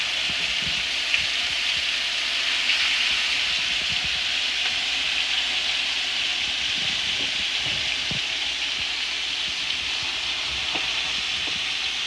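Thick, floured chunks of moose heart frying in a pan, giving a steady, loud, continuous sizzle with faint crackles throughout.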